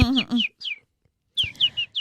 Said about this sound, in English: Chirp, babies, chirp